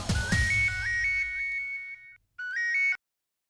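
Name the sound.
phone ringtone ringing before a call is answered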